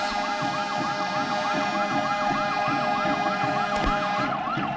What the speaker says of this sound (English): Love those horns.